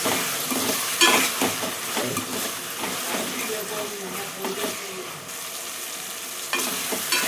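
Red lentil masala curry is stirred in a pan over a steady hiss of frying, with soft scraping strokes and bursts of sizzle that rise and fade. A voice talks faintly underneath.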